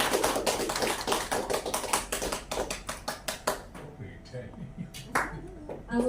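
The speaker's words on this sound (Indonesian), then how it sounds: "Sekali lagi boleh kita kasih tepuk tangan untuk Ibu Andina." Applause for a teacher at a school dissemination session on positive culture, a room of people clapping briskly then tapering off into scattered claps, with a voice speaking briefly near the end.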